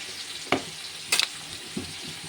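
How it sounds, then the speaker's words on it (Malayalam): Crushed garlic and whole spices such as cinnamon and cardamom frying in a pan for fish majboos, with a few sharp stirring scrapes standing out over a low, steady sizzle, close and fairly quiet. "വെളുത്തുള്ളിയും ചതച്ചതിട്ട് കൊടുത്ത് അത് ഇളക്കി നല്ല ഇണക്കി മിക്സാക്കിയിട്ട്"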